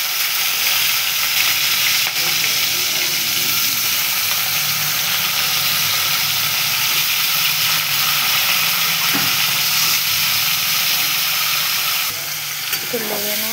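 Cut potatoes frying in a pan with green chili, a loud continuous sizzle and hiss close up, with occasional stirring scrapes and a brief clink near the end.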